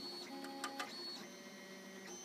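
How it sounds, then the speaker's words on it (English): A 3D printer printing PLA roller coaster car parts hums and whines steadily with stepper-motor tones that shift pitch as the head moves, plus a couple of brief clicks, close and alone. "The printer's doing a very, very good job."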